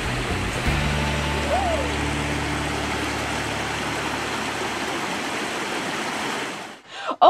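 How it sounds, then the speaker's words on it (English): Cool waterfall pouring into a pool in a natural setting, a steady broadband rush of falling water throughout, loud and close, with some tonal whistles early on and a brief cut near the end. "join me in the cool waterfall"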